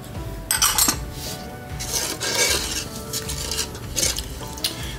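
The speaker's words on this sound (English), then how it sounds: "We'll kind of mix this each item as we add them to make sure they're good and mixed up." Spoon scraping and stirring collard greens with brown sugar and seasoned salt inside a crock pot, a steady close scraping and clinking with no talk.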